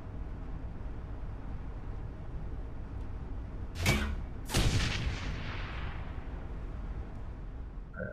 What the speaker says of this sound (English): let's start off with some grenades while they're grouped together